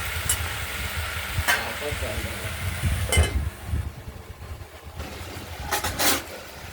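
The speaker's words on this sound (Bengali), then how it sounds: "আমরা ঢাকনাটি খুলে আরেকবার নাড়াচাড়া করে দিলাম তরকারিটি" A spoon scrapes and stirs a mixed vegetable curry in a lidded kadai amid a soft sizzle, with a few sharp clinks of metal against the pan.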